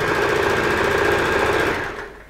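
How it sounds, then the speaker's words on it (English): A sewing machine stitches the hem of a kimono robe in a straight stitch. Its loud, steady rapid whirring continues near the microphone, then slows and fades out at the end. "Now I'm sewing from the top because I can feel"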